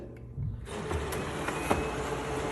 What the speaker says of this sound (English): Now this print started up right away